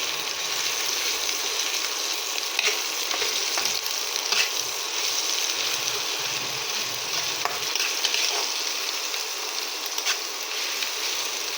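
Garlic paste frying in a pan, stirred with a spatula in steady scraping strokes over a continuous close sizzle, loud and unbroken with no voices.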